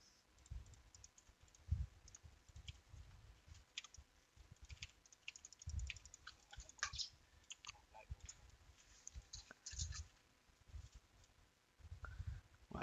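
Computer keyboard typing during a gaming scrim, with irregular bursts of quick key clicks and taps, close and fairly quiet, pausing briefly between flurries with no talking.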